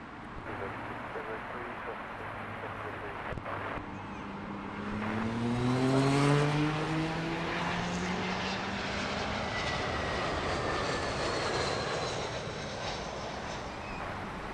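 A British Airways Airbus A320-200 in oneworld livery arriving at Heathrow, its engine roar building from a distant rumble to a peak with a descending whine, then easing off, with traffic noise in the background.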